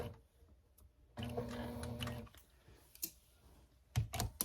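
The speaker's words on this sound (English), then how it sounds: "I'm going to put my pin at about a 1/4 inch and stitch right up to it" A sewing machine runs a short burst of stitching along the binding of a quilted mug rug, followed by quiet handling clicks and taps close by, with no speech.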